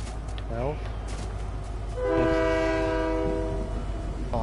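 Train in the Fortnite video game, a low rumbling passage with a loud, sustained multi-tone horn blast in the middle while players talk over it.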